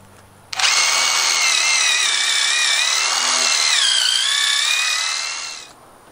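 A power drill whirs loudly into a wooden fence frame, starting abruptly, holding a steady high whine with a slight pitch dip midway, then spinning down.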